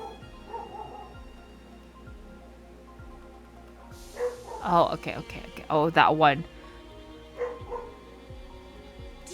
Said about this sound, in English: I didn't know he's already started barking.